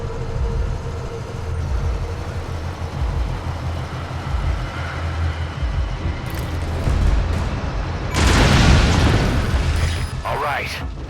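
An armored vehicle is destroyed by an explosion in Metal Gear Solid V: Ground Zeroes. A steady, heavy rumble runs throughout, then a loud, sharp blast erupts near the end and trails off into crackling debris.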